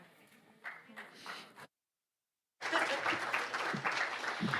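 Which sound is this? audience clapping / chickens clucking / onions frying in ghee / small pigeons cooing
audience clapping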